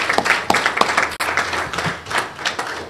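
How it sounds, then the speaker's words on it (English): A small audience at a pageant launch event gives a round of applause, irregular hand claps with distinct sharp strikes over a steady clapping texture, moderately close and uninterrupted by talk. "So that deserves a big round of applause in the office."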